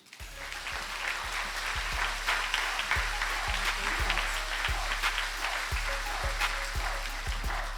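An audience at a corporate awards event for contractors claps steadily in sustained, dense applause, full and close throughout.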